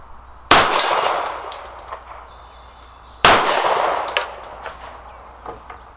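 Two loud, sharp pistol shots from a Dan Wesson DWX Compact, about three seconds apart, each followed by a ringing metallic clang of a steel gong and a long decaying tail outdoors.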